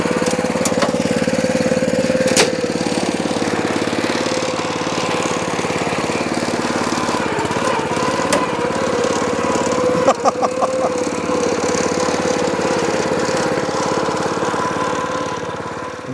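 An old Turfco topdresser engine runs steadily close by, a loud constant mechanical drone with a few brief clanks, lasting the whole stretch with no voices.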